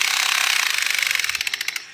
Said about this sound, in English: You can hear the drill. The battery is dying.